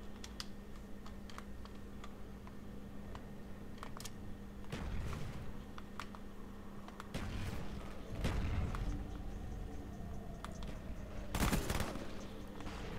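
Gunfire bursts from a Call of Duty Black Ops 1 search and destroy match, scattered short shots with a few louder clustered volleys, set against steady background hum and faint clicking.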